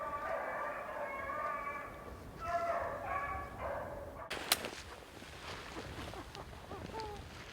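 Several beagle hounds bay and yelp in the distance on a rabbit chase in Michigan, overlapping calls rising and falling in bursts, followed by a sharp crack and quieter outdoor ambience.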